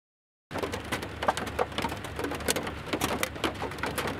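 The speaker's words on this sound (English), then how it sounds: "I started hearing noises on my roof that did not sound like rain, and I realized it was hail." Hail pelts the metal roof of a van in a thunderstorm near Crested Butte, a dense, steady patter of many sharp ticks and clatters heard from inside, with no talk.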